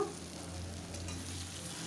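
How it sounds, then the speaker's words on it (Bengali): Potatoes and soybean chunks fry together in a pan, giving a quiet, even sizzle that holds steady throughout with no stirring strokes standing out. "আলু আর সয়াবিন আমি আবার একসঙ্গে ভাজি করে নেব।"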